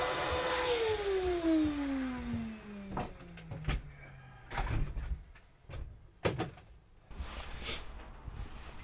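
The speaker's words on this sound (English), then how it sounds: "I think I better have a tidy up and vac the floor because yeah, everything's covered in dust" A vacuum cleaner on a dusty narrowboat cabin floor, its motor tone sliding downward as it winds down, then bumps, knocks and brief surges of suction as the nozzle moves around, close by.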